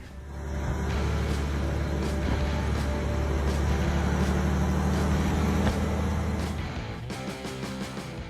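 A 1933 Ford turned homemade car roars with a deep, steady engine rumble, loud and close, holding for several seconds before easing off near the end.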